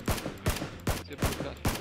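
Rapid gunfire in the PUBG battle-royale game: five sharp, evenly spaced bursts of shots, loud and near, with no voices.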